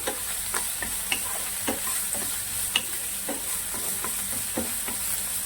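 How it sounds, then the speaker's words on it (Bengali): Ridge gourd peel fries in hot oil with a steady sizzle close by, while a utensil stirs it in a series of light, irregular scrapes and clicks. "তেলটা দেখো আমার গরম হয়ে গেছে এবার আমি এর মধ্যে দিয়ে দেবো ঝিঙের খোসাটা এটাকে আমার কিছুক্ষণ টালতে হবে ভালো করে"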